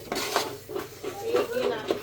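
A spoon scrapes and clinks against a pot while adadiya pak ingredients are stirred and mixed, giving a few close, irregular metallic knocks. Someone speaks over the stirring.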